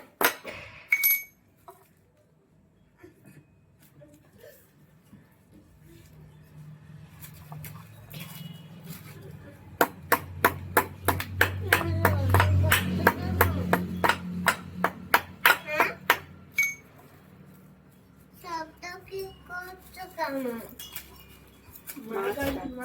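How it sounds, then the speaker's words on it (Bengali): Fish being cut by hand in a home kitchen: a run of sharp, rhythmic chopping clicks and metallic clinks, close and moderately loud, with a low hum and voices talking around it. "মাছ কাটছি"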